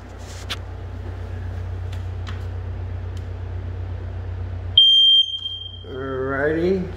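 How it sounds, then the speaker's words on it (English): A shrill, steady beep from a new smoke alarm sounds for about half a second after a stretch of quiet fan hum inside a house, followed by a person talking. "We got new smoke alarms."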